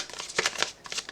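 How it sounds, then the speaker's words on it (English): Tarot cards are shuffled up close in a short burst of soft papery riffling and sliding, ending in a sharper snap. No one speaks. "Let me shuffle again, because I wasn't actually sure."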